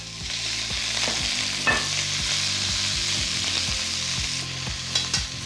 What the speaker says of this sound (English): I'm actually going to fry with chopsticks because you are able to get to the meat quicker